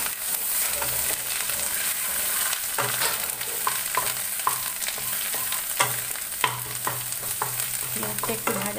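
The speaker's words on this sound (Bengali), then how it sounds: "পেঁয়াজটা একটু ভাজা ভাজা করে নিই।" Chopped onions sizzle steadily in a hot pan of oil and spices, with repeated scraping stir strokes of a spoon cutting through the continuous frying hiss, close and fairly loud, with no talking.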